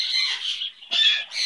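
A pet bird mutters in short, close, raspy chirring phrases, two bursts separated by a brief pause, with no voices over it.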